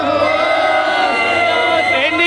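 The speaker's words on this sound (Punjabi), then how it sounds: "ਜੈਕਾਰੇ ਤੇ ਜੈਕਾਰੇ ਲੱਗਦੇ ਰਹਿਣ।" Sikh jaikara slogans chanted by a crowd at the birthplace of Bhagat Jaidev Ji in Kenduli, West Bengal, a loud sustained collective shout with harmonic vocal tones, voices blending in unison close by.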